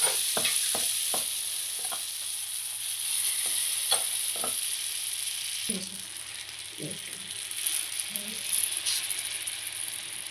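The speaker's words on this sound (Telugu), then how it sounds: "సో చూపించిన విధంగా రొట్టె అనేది ఆయిల్లో వేసేసుకొని ఇట్లా మంచిగా స్ప్రెడ్ చేసుకోండి." Palm fruit batter roti spreading out in hot oil in a pan hisses with a steady, close frying sizzle, marked early on by a run of sharp utensil taps and scrapes.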